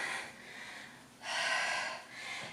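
Heavy, breathy exhales during a cardio circuit workout come in three forceful pushes of air, close and fairly faint, with no talking.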